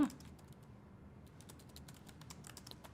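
Someone types a prompt on a computer keyboard while using Microsoft Copilot. Quick, soft key clicks follow one another in an irregular run, close and fairly quiet, after a brief louder bump at the very start.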